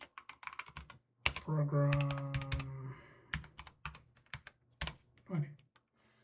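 Computer keyboard keys clatter in quick irregular bursts of clicks, close and crisp, while someone speaks over part of the typing.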